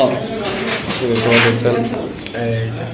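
Large Bombai pigeons cooing at a pigeon farm, a few soft low coos heard close by beneath ongoing conversation between men.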